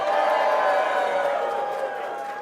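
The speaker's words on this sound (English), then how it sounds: "3, 2, 1, cheer!" A CES 2012 event audience cheering and whooping on cue as a sustained, dense crowd roar that fades slightly toward the end.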